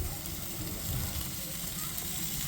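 Steaks sizzle on a grill with a steady, close hiss and faint popping, continuous and alone.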